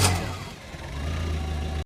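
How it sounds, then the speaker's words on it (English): An old taxi cab's engine catches and runs rough, a steady mid-pitched motor drone that swells and revs before cutting off abruptly, close and loud with no voices. "The engine coughed like something dead waking up."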